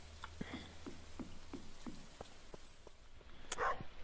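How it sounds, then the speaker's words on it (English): Steady soft rainfall fills the background in the farming game Stardew Valley, faint and continuous, with a row of light rhythmic taps running over it and a brief brighter chime near the end. "Still raining by the sounds of it."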